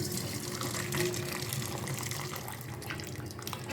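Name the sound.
pouring cooking water off boiled brinjals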